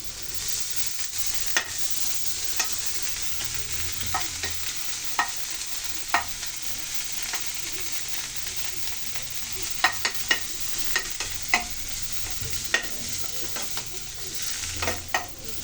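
Fresh coriander leaves frying in a pan for egg biryani, a steady broadband sizzle with repeated sharp clicks of a spatula stirring and scraping throughout, close and clear with no talking.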